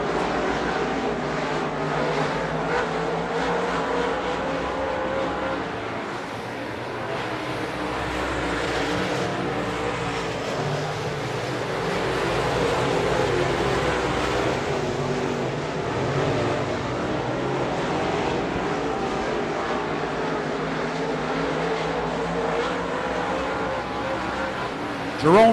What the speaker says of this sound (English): 17 down, 3 to go for your race leader, Jerome Gio.